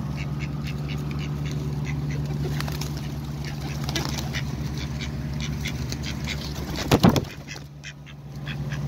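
Wild ducks quack repeatedly outdoors while being fed by hand, over a low engine drone, with a louder burst of noise near the end and a voice in the background.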